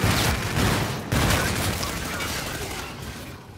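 Hailstorm pistol shots in a video game, a loud dense burst of gunfire with sharp reports and crackling overlapping blasts that gradually fade, no talking over it.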